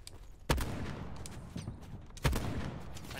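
Gunfire in the Call of Duty Blackout video game: two sharp, loud shots about two seconds apart over a low, busy background rumble, with fainter pops in between.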